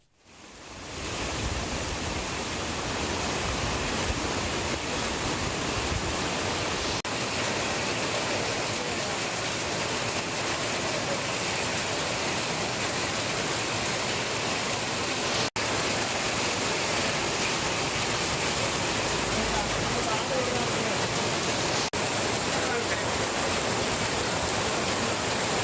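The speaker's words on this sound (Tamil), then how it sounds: "நாகையில் அதிகாலை முதல் கனமழை வெளுத்து வாங்கி வருகிறது" Heavy early-morning rain in Nagapattinam, Tamil Nadu, pours down as a dense, unbroken hiss, loud and steady for the whole stretch with no voices.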